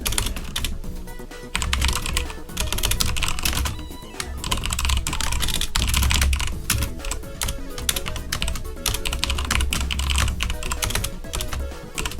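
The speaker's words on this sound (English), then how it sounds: "I struggle to type on a laggy keyboard." Steady typing on a laggy computer keyboard at a terminal session, dense continuous key clatter with uneven rhythm running for about twelve seconds, fairly close and loud, with no talk.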